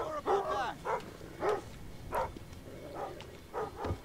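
A dog in the stealth game Thief barks repeatedly in short, irregular bursts of barks and yips, fairly close, over a low game ambience.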